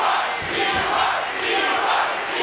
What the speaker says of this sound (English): Hear the reaction of the great crowd here